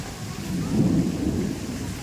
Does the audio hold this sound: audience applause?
no